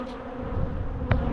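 Bees buzzing angrily around an apiary hive during maintenance, a steady dense hum throughout with one brief closer swell of a single bee passing near.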